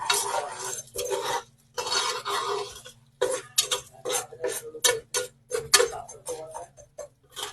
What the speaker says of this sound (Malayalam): ചോളം ഇട്ടതിന് ശേഷം നല്ലതുപോലെ ഇളക്കണം